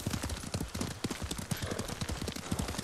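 Horse hooves clip-clop at a steady riding pace in the video game Ghost of Tsushima, a continuous close rhythmic patter with no talk over it.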